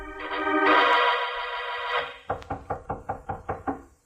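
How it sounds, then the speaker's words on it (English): Knocking on a door in a 1951 radio detective drama, a run of about eight crisp, evenly paced raps heard close and alone, coming right after a swell of orchestral music fades out. "there was a knock on Mallard's door."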